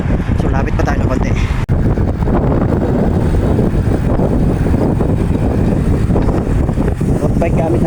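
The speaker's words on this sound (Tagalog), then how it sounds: "Malakas yung malakas yung hangin" Strong wind buffets the microphone in a loud, constant roar with heavy low rumble, steady throughout, during an evening road bike ride.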